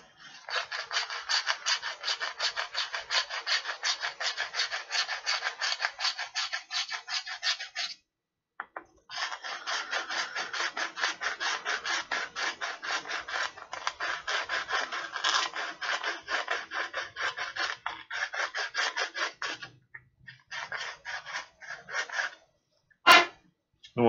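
Hand reamer being worked through a metal part, a close, rapid rhythmic rasping scrape in long continuous runs, pausing briefly around the middle, then trailing into short strokes and a sharp knock at the end.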